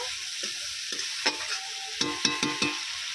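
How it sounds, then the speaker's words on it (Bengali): Tomato paste stirred and fried in a pan, a bright hissing sizzle with several distinct spatula strokes and scrapes that cluster toward the end. "টমেটো পেস্টটা দিয়েও খুব ভালো করে আবার একটু নেড়ে নেব"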